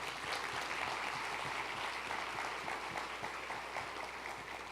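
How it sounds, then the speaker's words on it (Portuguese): Applause from a church congregation during a sermon, steady and full, many hands clapping at once at a moderate distance, fading slightly at the end. "Dê um aplauso ao Senhor."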